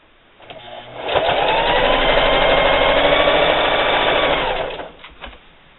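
A sewing machine stitching the seam of a spring table topper, starting up after a second and running at a steady fast whir for several seconds before slowing and stopping, close and loud with no talk.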